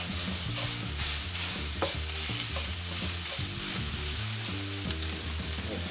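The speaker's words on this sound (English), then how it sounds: "we're just gonna break this up, put it right in a nice hot pan." Sausage sizzles loudly in a hot cast iron pan while a utensil stirs and scrapes it around, with irregular clinks over the steady frying hiss.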